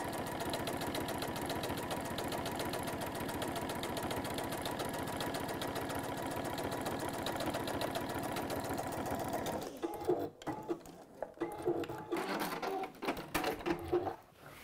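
A sewing machine stitches a seam with a fast, continuous mechanical whirr. After about ten seconds it turns into irregular stop-start bursts and handling clatter, all close and clear with no talking.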